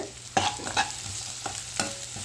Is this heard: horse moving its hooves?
no